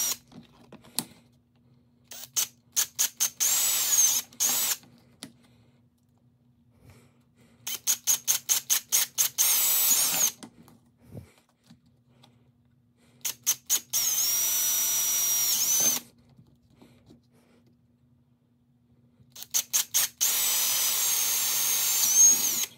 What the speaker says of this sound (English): drill the holes for the eyelets